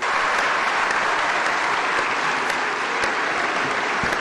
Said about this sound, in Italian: Il lungo applauso di Palazzo Madama per una scelta storica